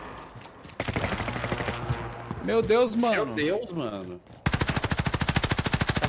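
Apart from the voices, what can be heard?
gunfire in the video game Call of Duty Warzone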